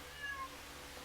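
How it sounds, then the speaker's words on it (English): A house cat gives a single short meow indoors, faint and thin over a quiet room hum, with no talking. "I do apologize for my cat hijacking the video."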